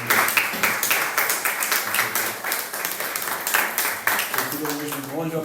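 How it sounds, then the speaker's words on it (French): A church congregation claps together to welcome a first-time visitor at a service, giving brisk, rhythmic group clapping with a few voices audible underneath, ending as the clapping thins and a voice takes over. "on peut applaudir pour accueillir ensemble"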